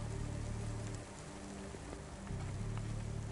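Steady rain falling in a rainy city street in the video game Cloudpunk, a dense continuous hiss with a low droning hum beneath, constant and fairly close throughout.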